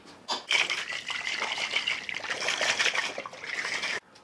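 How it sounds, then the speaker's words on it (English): Liquid sloshing hard inside a fermentation bottle being shaken while making apple cider, a continuous close splashing churn lasting several seconds before stopping abruptly. "we're going to give this a good shake"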